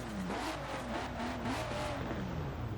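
Toyota MR2 fitted with a swapped six-cylinder engine in Forza Horizon 4, revving with rising and falling pitch over a constant loud engine roar; no one speaks.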